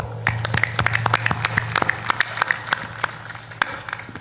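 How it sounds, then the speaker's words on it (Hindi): An audience claps at a Hindi spiritual discourse on devotion: a steady patter of many separate hand claps, moderately close, over a low constant hum, with no one talking. "ताली बजा दो।"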